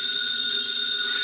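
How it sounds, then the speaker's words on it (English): A telephone bell rings steadily and loudly in a radio drama, a continuous bright electric ring filling the moment with no voices over it. "Answer the phone."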